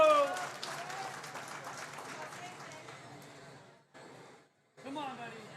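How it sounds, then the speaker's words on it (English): Applause and cheering from the crowd at a national powerlifting meet, with mixed voices and clapping close by that fade, break off briefly and then pick up again. "Give Trevor a round of applause."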